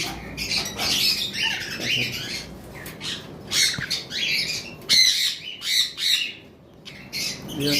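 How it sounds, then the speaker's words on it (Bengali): A breeding pair of lorikeets, one red-collared and one rainbow, squawk in harsh, shrill bursts close by, calling again and again without pause and with no talk over them. "রেড কলার এবং রেমবো মিলে একটা পেয়ার রয়েছে।"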